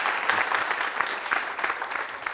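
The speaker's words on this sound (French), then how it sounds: "Merci de l'applaudir bien plus fort." A TV studio audience on the Burkina Faso show La Télé s'amuz applauds a rapper, a lively, loud round of clapping with slight rhythmic surges, continuous and free of speech.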